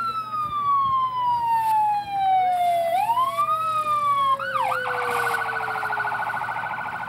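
Cortland Volunteer Ambulance Corps vehicles pass in a 1994 parade for Governor George Pataki with sirens wailing, a falling tone sweep giving way to a rising wail and then a rapid yelp pattern, loud and close.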